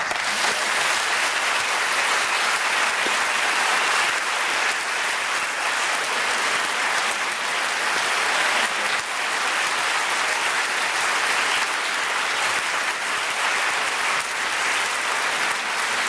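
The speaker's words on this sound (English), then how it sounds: "Let's hear another round of applause." Sustained audience applause after a lecture on joy, humor and laughter among the saints, steady and dense throughout, loud and close with no break.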